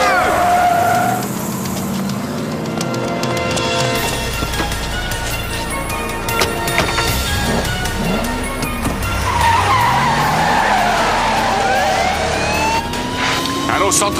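A police car pursues a white sedan northbound on Martin Luther King Boulevard. Tires screech repeatedly, engines roar and a siren wails close by in a continuous, loud, chaotic chase mix.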